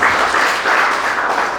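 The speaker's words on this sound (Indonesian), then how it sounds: "Kasih tepuk tangan." A church congregation applauds during a sermon, a dense, steady wash of clapping held at even loudness through a short burst.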